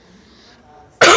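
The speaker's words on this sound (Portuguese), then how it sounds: "Tô com uma tosse braba." A single sharp, loud cough bursts out close to the microphone at the very end, after near silence from someone suffering a bad cough.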